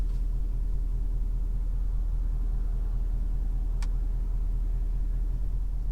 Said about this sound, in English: So it's nice little rumble inside the cab